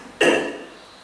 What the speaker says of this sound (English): Ask your patient to cough.